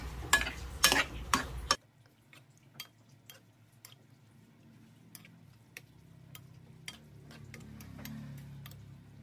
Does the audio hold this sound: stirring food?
yes